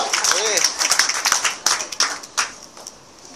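Congregation in a Pentecostal church service applauding, a burst of clapping mixed with voices and cheers that thins out toward the end.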